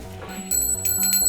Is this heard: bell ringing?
yes